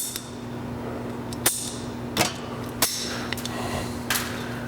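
A tubing cutter working on air suspension line tubing during a Firestone air bag suspension kit install, giving a few sharp, separate clicks and snaps over a steady low hum, close by and with no talk.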